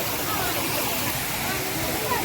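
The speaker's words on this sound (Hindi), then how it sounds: "वाटरफॉल बहुत सुंदर वाटरफॉल, कर्टन वाला वाटरफॉल।" A curtain-style waterfall in Gujarat pours in a steady, dense roar of rushing water, loud and close, with no breaks.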